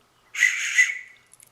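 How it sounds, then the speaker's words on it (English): A single shrill blast from a rescue whistle, loud and close, lasting under a second before trailing off. "The tools and devices mod has a rescue whistle."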